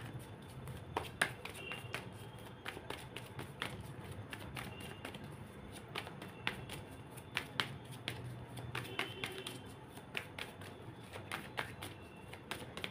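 Tarot cards being shuffled and handled during a reading, giving a steady run of soft riffling and crisp, quick card snaps and taps close by, with no voices.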